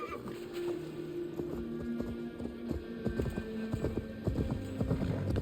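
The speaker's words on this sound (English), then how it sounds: "Horse magically appears." Horse hooves clip-clop steadily in Assassin's Creed Valhalla, a quick repeated gait up close with occasional faint snorts and whinnies over a low game ambience, without talk.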